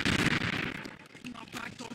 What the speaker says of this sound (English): And they're all shooting me.